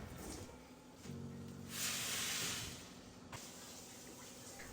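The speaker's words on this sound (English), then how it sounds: "I'll mix everything and then add the water." Water pours into a pot of softened tomatoes and dalia, a bright steady hiss swelling for about a second and a half, then cutting off, with no voices.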